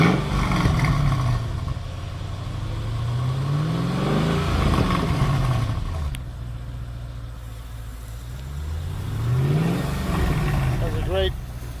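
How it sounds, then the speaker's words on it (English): A 2006 Mercedes-Benz CL55 AMG coupe's engine runs at close range, rising and falling through two or three strong revs with a deep rumble between them, and a voice can be heard faintly over the engine noise. "We're going to start up the engine for you in just a minute here."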